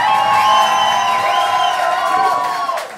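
Live club crowd at a rock band's concert cheering loudly, with whoops and shouts over a sustained roar that stays strong for about three seconds.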